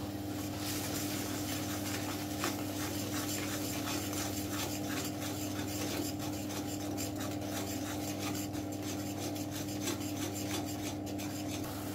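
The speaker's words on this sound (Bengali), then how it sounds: "কয়েক সেকেন্ড খুব ভালো করে নাড়াচাড়া করে নিয়েছি।" Pabda fish with turmeric, chilli powder and salt is stirred in a pan, making a continuous rasping, scraping rub of the utensil against the pan at an even pace, with no voices.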